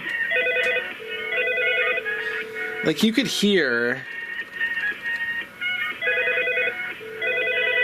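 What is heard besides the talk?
IP phone ringing through speakerphone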